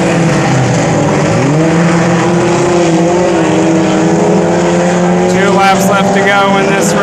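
Hornet class race cars roar around Brownstown Speedway late in a race, their loud engines droning steadily and rising in pitch as cars pass close, with a voice talking over the engine noise.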